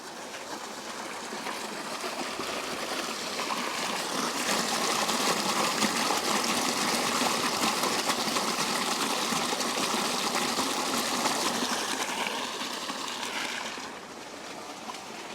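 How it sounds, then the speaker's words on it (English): Irrigation water on a farm rushes and gushes steadily, a continuous broadband flow that swells slightly and then eases near the end. "I am going to divert some of this water from the middle over to the end."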